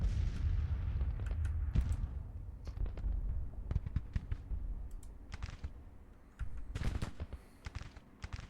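Volleys of troop fire sound in the Civil War strategy game Grand Tactician during the Battle of Nashville, with sharp cracks and heavier booms over a low rumbling battle din, some shots clustered, others spaced out.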